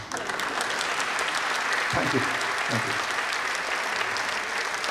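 Seminar audience clapping steadily and densely throughout, fairly loud and even, with someone briefly speaking over the applause partway through.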